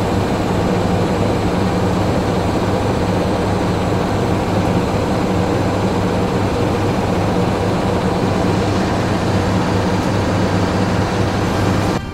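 A KLB Kericak locomotive shunting at a railway station, heard as a loud, steady diesel engine rumble with a broad, continuous roar. It holds an even drone throughout without clear breaks.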